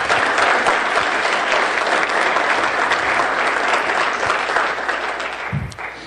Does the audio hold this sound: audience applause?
yes